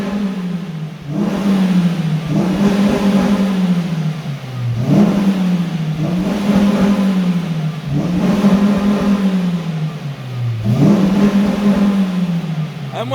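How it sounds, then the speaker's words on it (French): A Suzuki Swift Sport with right-hand drive revs its engine repeatedly, in loud close bursts that climb and fall back about every two seconds. "Je te laisse démarrer la voiture pour nous faire écouter un petit peu le son"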